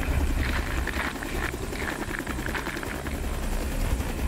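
A firefighting helicopter hovering for a water drop, its steady rotor roar constant and close, with a low rumbling drone and no voices.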